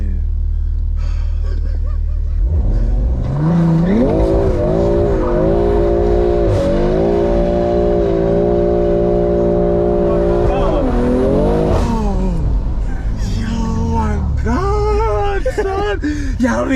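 A BMW M340i does a burnout, its engine roaring at sustained high revs as the tires squeal in a long, loud, wavering screech, then rising again toward the end, with people talking and shouting over it nearby.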